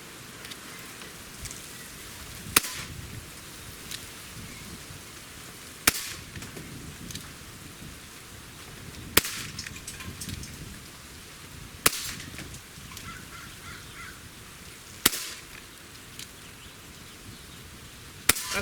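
Single shots from an HK MP5 K-PDW at a shooting range, six sharp cracks spaced about three seconds apart, distant and fairly faint, with quiet low background noise between them.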